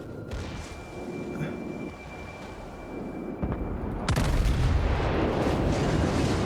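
Naval gunfire in the World of Warships video game, heavy booming blasts and rumbling explosions, with one loud deep salvo cutting in partway through and a dense, roaring wash continuing afterward.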